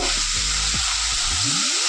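Bitter gourd and pumpkin pieces frying uncovered in oil, giving a dense, steady hiss of sizzling without pause, close and loud.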